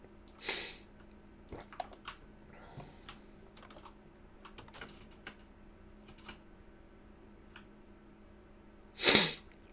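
Two loud, close sneezes, one near the start and one near the end, with quiet computer keyboard typing and clicking in between.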